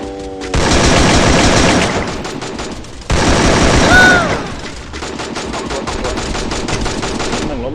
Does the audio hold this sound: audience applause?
no